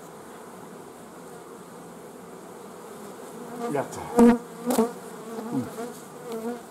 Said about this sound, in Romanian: Albină